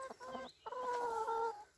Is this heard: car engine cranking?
no